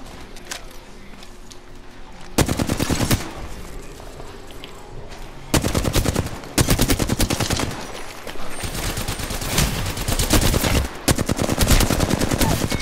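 Video game gunfire rattles in loud, sustained bursts of rapid automatic shots with short gaps between volleys, dense and close throughout.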